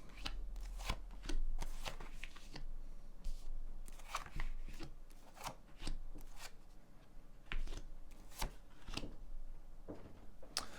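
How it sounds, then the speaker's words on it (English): A tarot card deck is shuffled in repeated bursts of riffling and flicking, close and fairly quiet, with no talking. "So we're going to shuffle the cards."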